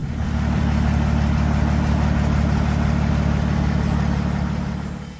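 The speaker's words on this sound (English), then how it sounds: "The Allis-Chalmers WD45, the orange thunder that turned sweat into progress" An Allis-Chalmers WD45 tractor engine running at a steady, loud low rumble with an even throbbing beat, close and continuous with no voices.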